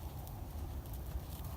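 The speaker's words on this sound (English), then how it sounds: "when the horse takes a step towards you" Horse hooves clip-clopping on the ground as the mare steps toward a handler during lunge-whip groundwork, soft, steady and close with low rumbling background.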